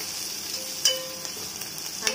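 Coriander leaves sizzle in hot oil in a tempering for tomato dal, a steady frying hiss with a few sharp stirring clinks from a utensil.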